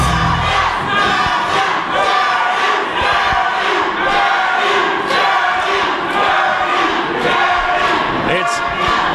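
A large wrestling crowd roars and cheers continuously, loud dense shouting and chanting filling the whole stretch with little break.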